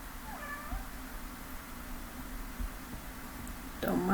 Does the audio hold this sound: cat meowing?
yes